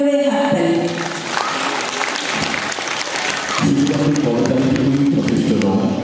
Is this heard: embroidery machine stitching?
no